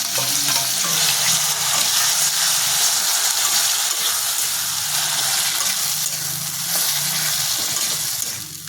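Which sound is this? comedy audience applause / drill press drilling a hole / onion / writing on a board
onion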